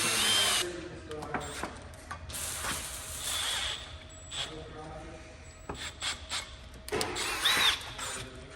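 A power drill bores with a small bit, lubricated with WD-40, in repeated rough grinding bursts separated by short pauses, heard close and fairly quiet.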